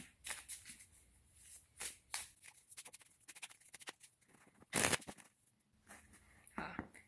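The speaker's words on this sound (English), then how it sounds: "They're shuffling a lot." Oracle cards riffle and slide in repeated bursts of shuffling, close and soft, with brief pauses between each flurry.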